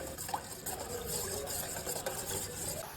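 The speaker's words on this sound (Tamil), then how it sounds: "இங்க பாருங்க நல்லா கொதிக்குது" Continuous bubbling and simmering of sugar syrup at a rolling boil in a pot, close up, with a faint steady background hum.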